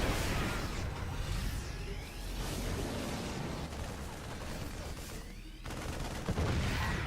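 Siege tanks firing in a StarCraft 2 match, a dense, continuous barrage of heavy blasts and impacts with a sharp burst near the end, loud and close, no voice on top.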